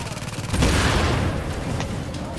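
A volley of gunfire in The Division erupts as a dense, loud burst of shots and booms, then lingers as rumbling fire with a couple of sharp cracks trailing behind.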